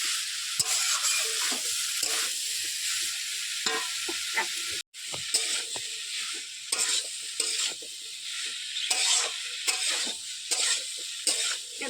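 Arum stalks and jackfruit seeds frying in a pan, with a steady close sizzle and repeated scraping stirs, one brief gap near the middle, no talking.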